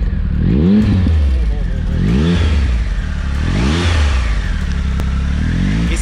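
A Triumph Tiger 1200 motorcycle's engine is started and revved repeatedly, with several rising and falling surges, loud and close, and a voice can be heard in the background.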